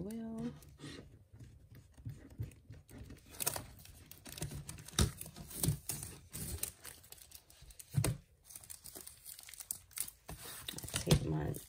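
Tape pulled from a roll and pressed down around an embroidery hoop on an NQ1700E embroidery machine, with crinkly tearing and rustling in bursts, close and fairly quiet.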